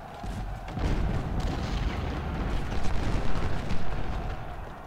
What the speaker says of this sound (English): Come on, cannons.